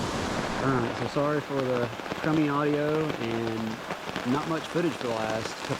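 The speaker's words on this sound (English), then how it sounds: "It is absolutely coming a downpour." Steady heavy rain hisses in the background while someone talks over it close to the mic, in the Great Smoky Mountains.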